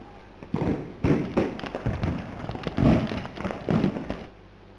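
Firecrackers burst on a road at night during Diwali at Porbandar Chowpatty, a run of sharp, fairly loud thuds and pops coming in irregular clusters over a steady background.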